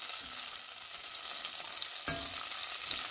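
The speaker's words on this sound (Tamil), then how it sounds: "கேஷ்யூவும் ரைஸினும் வந்து ஃப்ரை ஆகிட்டுருக்கு" Cashews and raisins frying in a pan, a soft, continuous sizzle with occasional stirring scrapes, close and fairly quiet, no talking.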